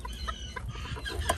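A hen clucks in short, close, repeated bursts, a few quick clucks in a row with a brief rooster-like call near the end, set against a faint farmyard background.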